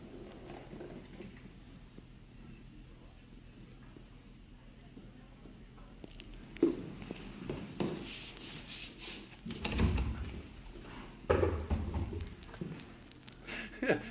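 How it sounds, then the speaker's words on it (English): A door is shut in a played-back recording, heard as a few muffled thumps and knocks over faint room hiss, fairly quiet and distant. "And then you can hear him go and shut the door."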